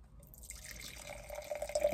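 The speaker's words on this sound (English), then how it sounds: "Pour a little bit in here." Wine pours from a bottle into a small glass inside a car, a close, quiet liquid trickle rising in pitch as the glass fills over about two seconds.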